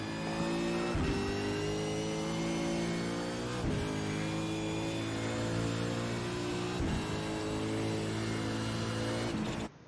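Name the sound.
V8 Supercar racing at Brands Hatch in a racing sim video game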